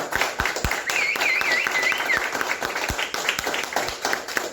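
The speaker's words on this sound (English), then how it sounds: "Can we get one more round of applause for all our performances?" Audience applauding the performers at a Christmas coffee house show, steady crowd clapping with distinct nearby claps standing out, and faint whoops or cheers briefly rising above it.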